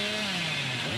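A chainsaw engine buzzes steadily and loudly, a continuous raspy drone with no pauses, from the video game Dead by Daylight.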